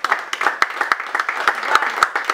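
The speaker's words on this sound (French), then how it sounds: "On applaudit encore." Audience applause at a ceremony introducing association officers, a steady patter of many hands with sharp individual claps standing out, fairly close and continuous throughout.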